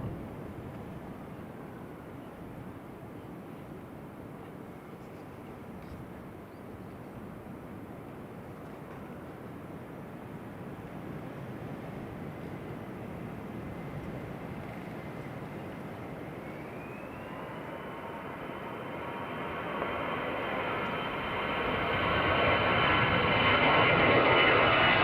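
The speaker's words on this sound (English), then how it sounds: "That's EasyJet just about to touch down" EasyJet airliner touching down at Teesside International Airport: a low, distant jet rumble swells steadily, then a rising engine whine and a louder roar build strongly over the last several seconds.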